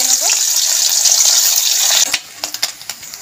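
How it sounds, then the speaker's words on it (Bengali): Small mourala fish rubbed with salt and turmeric hit hot mustard oil with a loud, dense sizzle for about two seconds. The hiss then drops off abruptly, followed by a few scattered clinks and scrapes in the pan. "নুন হলুদ মাখিয়ে রেখেছিলাম মাছগুলো একটু ভেজে নেব।"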